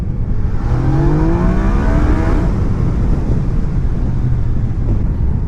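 A 2019 Yamaha Niken three-wheeled motorcycle pulls hard in first gear, its engine note climbing steadily in pitch for about two seconds before easing off, loud and close over constant wind rush.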